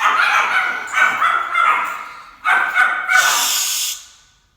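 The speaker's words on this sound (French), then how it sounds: "Allez, j'ai sorti mes chiens." Pet dogs bark in loud, close bursts of yips and whimpers, with a short pause midway before a final spray of barks that fades out; no talk over it.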